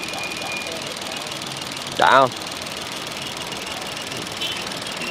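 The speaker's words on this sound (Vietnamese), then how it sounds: "Máy nổ êm không?" A used car's engine idles steadily at a Vietnamese auto dealership, a continuous low mechanical hum heard close up, with a brief spoken word cutting in partway through.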